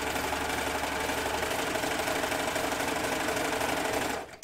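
A serger stitches elastic onto a waistband with a fast, continuous mechanical whirring and rattle, loud and close, running steadily for about four seconds before it abruptly stops.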